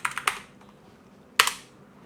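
Close computer keyboard typing comes in two short bursts of crisp key clicks, a few rapid taps, a pause, then another quick cluster.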